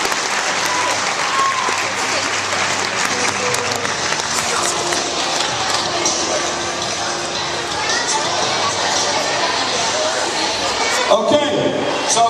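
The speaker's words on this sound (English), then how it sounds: "So give them a round of applause again." A meeting audience gives a sustained round of applause, loud and continuous clapping mixed with crowd noise and scattered voices, swelling slightly near the end.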